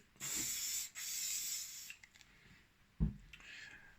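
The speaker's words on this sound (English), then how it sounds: "get the hairspray and just give it a good spray" Two long hissing blasts from an aerosol can of hairspray, close and loud, followed by a brief clatter and a softer final puff.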